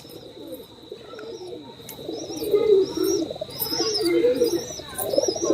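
Pigeons on a rooftop coo in low, repeated throaty phrases, rising and falling in loudness, with occasional wingbeats, thin chirps and a steady high insect-like whine behind them.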